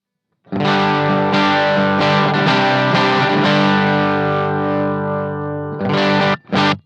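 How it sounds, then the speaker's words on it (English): A loud electric guitar chord rings out through a Bluguitar Amp1 Mercury Edition amp on its boost setting with thick distortion, followed by a couple of short stabbed chords at the end. "And here's the boost."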